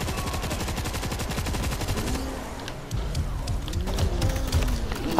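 Rapid automatic gunfire from a big gun in the zombie shooter World War Z, a loud, dense burst of shots rattling continuously for several seconds, thinning near the end with scattered distant shots.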